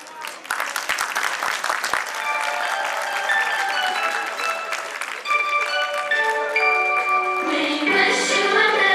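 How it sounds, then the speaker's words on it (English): Audience applause at a school annual function, a burst of clapping with voices through it that fades as bright chiming music with sustained tones rises and takes over. "So please big round of applause."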